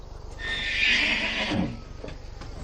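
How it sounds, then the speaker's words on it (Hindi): A horse neighs in a long, loud whinny that rises and falls over about a second, then fades into quieter snorts and faint hoof shuffling. "घोड़े तैयार हैं।"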